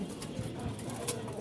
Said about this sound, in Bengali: তো এখানে দেখতে পাচ্ছেন আরও এক জোড়া কবুতর।